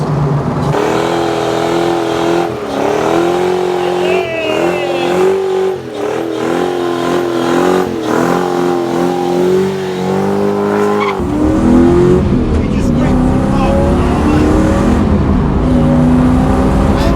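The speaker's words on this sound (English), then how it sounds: "Because of being a V8, it revs quite high, really." A Lexus V8 engine fitted in a Ford Sierra revs repeatedly, pitch climbing and falling in strong surges, then settles into a rougher, steady roar near the end.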